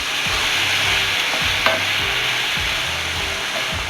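Garlic frying in a pan for enchilada sauce gives a continuous close sizzle, with a few low stirring knocks and a single brief clink partway through.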